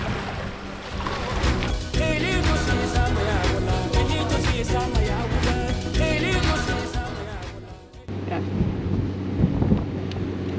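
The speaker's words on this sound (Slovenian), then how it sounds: "Malo pa piha." Strong wind gusting outdoors at Sandwich Harbour on the Namibian coast, a loud, steady roar buffeting the microphone for the whole stretch, easing briefly before surging again near the end.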